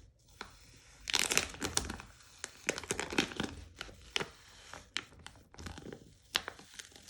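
A silicone mold for epoxy resin being flipped and peeled back, giving close, crinkly, sticky crackles in irregular bursts with brief pauses between.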